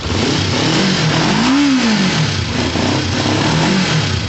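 A motorcycle engine runs loudly and steadily nearby, with a brief rev rising and falling in the middle.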